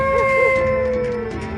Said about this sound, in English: They may howl to indicate their location to pack members and even show their affection.